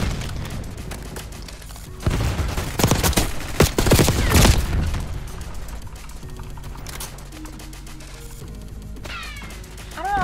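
Rapid gunfire from a low-capacity gun in Call of Duty: Black Ops 6, a dense burst of loud crackling shots peaking midway through, with game effects and background sounds around it.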